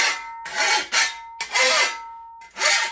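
A file rasps back and forth across the edge of a dull digging tool in four separate close, loud strokes with short gaps between them.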